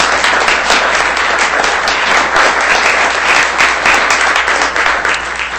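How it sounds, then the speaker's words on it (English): A forum audience in Santa Clara gives city council candidates a round of applause, with loud, dense, sustained clapping and no talk over it. "The candidates for City Council, would you be kind enough to give them a round of applause?"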